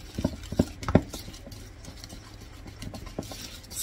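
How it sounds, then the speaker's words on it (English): Strawberry Kool-Aid pie filling is stirred in a bowl, a few sharp utensil clinks and scrapes at the start, then softer, quieter mixing sounds close by without talk. "Mix this in really good."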